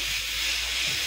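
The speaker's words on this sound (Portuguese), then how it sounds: "Esse barulho que vocês estão ouvindo é da panela de pressão." A kitchen pressure cooker hisses out steam in a continuous loud, bright rush, steady and close throughout the short moment with no speech over it.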